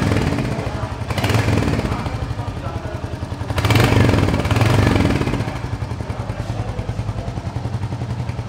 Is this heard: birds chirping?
no